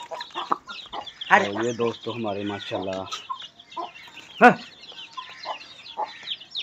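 Several chickens cluck and call close by, a rooster-like burst in the middle, while someone talks over the flock.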